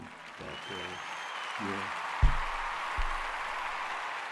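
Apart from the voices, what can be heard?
applause sound effect on a stream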